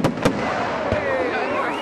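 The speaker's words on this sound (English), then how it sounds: "We got to see a fantastic fireworks show and a large bonfire" Fireworks burst during a Guy Fawkes Night display in an English park, with two sharp bangs close together at the start and another a moment later. Crackling and whistling trails continue under crowd noise.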